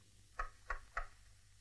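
Three dull knocks land on a door at an even pace, faint and slightly distant over a low hum, in a scene from the 1981 film Per Aspera Ad Astra.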